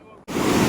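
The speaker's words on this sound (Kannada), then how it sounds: "ನೀರು ಹೋಗ್ತಿರೋದು ನೋಡ್ರಿ, ಎಷ್ಟು ಫೋರ್ಸ್ ಆಗೋಯ್ತೆ" Forceful water roars over the overflowing Vani Vilasa Sagara dam, a dense, steady rushing that cuts in abruptly and stays loud and close.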